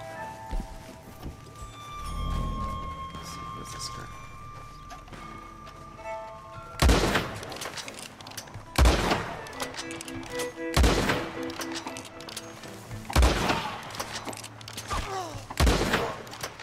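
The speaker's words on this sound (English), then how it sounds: "Someone's trying to shoot me." Sharp, loud gunshots from Red Dead Redemption 2 Online ring out in a series of about six separate blasts spaced roughly two seconds apart, after a quieter stretch of game ambience and a low rumble.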